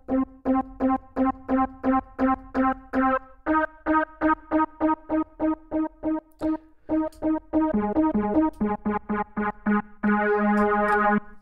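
Synthesizer in Studio One's Presence instrument with added filter resonance at the cutoff, playing rapid repeated staccato notes in a steady rhythm before ending on a held chord, clean and close.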